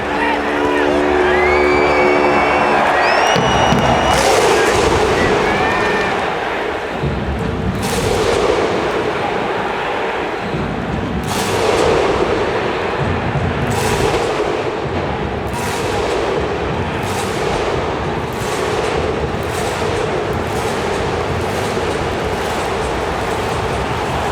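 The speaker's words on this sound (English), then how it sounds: "see the Canberra fans doing the Viking clap" Canberra rugby league fans perform the Viking clap in a stadium before kick-off, loud crowd claps and chants landing in widely spaced, accelerating booms amid constant crowd roar.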